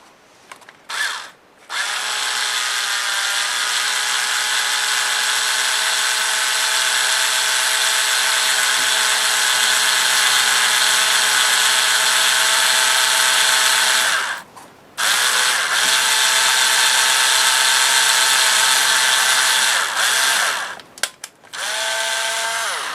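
A power drill bores holes through a handmade paper mini album, running in a long continuous high whine, stopping briefly, then starting again in two more bursts with short clicks between runs.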